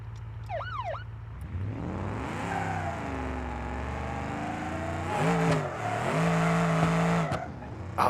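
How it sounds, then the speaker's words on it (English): Simulated car in BeamNG.drive doing a burnout, engine revving high and wavering with steady tire-spinning roar and squeal, loud and continuous for several seconds, no talking. "Oh my god, it's just blazing tires."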